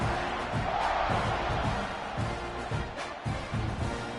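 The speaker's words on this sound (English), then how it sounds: "this crowd is buzzing after that last score" A football stadium crowd buzzes after a score, a steady loud roar of many voices with dull rhythmic thumps running underneath.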